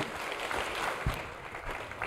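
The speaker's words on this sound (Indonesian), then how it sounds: "Tepuk tangan buat Tuhan kita." Applause from a church congregation during an Indonesian worship sermon, a steady broadband patter of many hands clapping throughout, moderately loud with a roomy, crowd-like spread.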